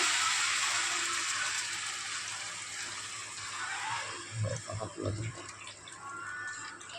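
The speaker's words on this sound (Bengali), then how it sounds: "মশলাটা কষা হয়ে গেছে, আমরা এবার জল দিয়ে দেবো।" Water is poured into a cooked spice paste in a pot for a tomato catla fish curry, a steady hissing pour that fades, followed by a few gurgling splashes near the end.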